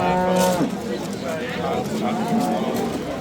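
A cow moos loudly and close at a busy livestock market, a single drawn-out call over steady crowd chatter and the general bustle of traders and animals.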